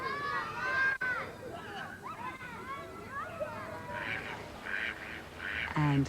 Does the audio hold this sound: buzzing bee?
no